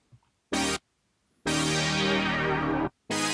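Synth chords from a house track play as three sustained blocks: a short stab, a longer held chord lasting well over a second, then another short stab, separated by near-silence.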